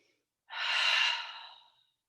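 A single deep breath drawn during a yoga session in warrior two pose, a soft airy rush that swells and slowly fades over about a second, close and alone.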